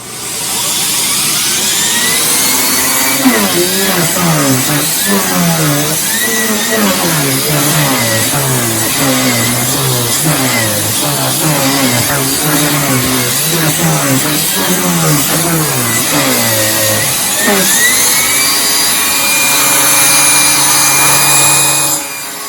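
A Miele Classic C1 canister vacuum cleaner runs on maximum power, a steady loud motor whine whose pitch wavers as the upholstery nozzle rubs and sweeps across fabric, continuous and close throughout.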